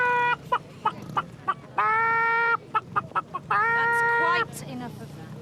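Chickens clucking at a rural rally in a 1994 Emmerdale scene, loud and close, with repeated short clucks broken by two longer drawn-out squawking calls.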